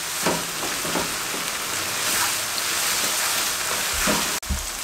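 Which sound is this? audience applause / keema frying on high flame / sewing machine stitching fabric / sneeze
keema frying on high flame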